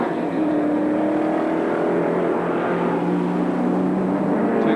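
1984 Sports Sedan race cars racing at Sandown, a loud steady engine roar with a sustained droning whine that holds without break, close and alone with no voices.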